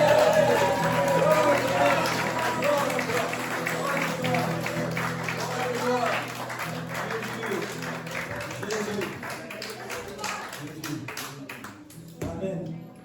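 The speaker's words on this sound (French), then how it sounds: "À 3, une belle acclamation pour Jésus" Church congregation at a Sunday service giving a cheering acclamation, clapping and shouting crowd noise that is loudest at first and gradually fades, with brief voices near the end.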